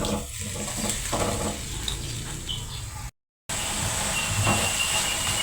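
A pot of menudo meat boils in water, a loud continuous bubbling hiss close by, interrupted only by a brief cut of silence midway before resuming.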